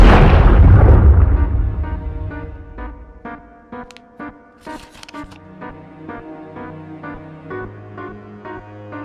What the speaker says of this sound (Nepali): घरमा बम पड्केछ